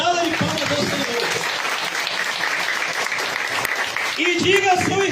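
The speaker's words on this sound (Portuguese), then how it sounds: "Nós vemos uma salva de palmas ao Senhor" A church congregation claps in praise, a full, sustained wash of applause heard throughout, with voices calling out and speaking over it near the start and again toward the end.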